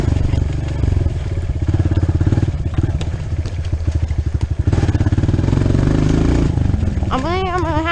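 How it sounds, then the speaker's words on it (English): A dirt bike engine runs steadily and close by on a trail, its dense pulsing drone continuous throughout, with a brief shrill whine rising near the end. "My dirt bike is quiet."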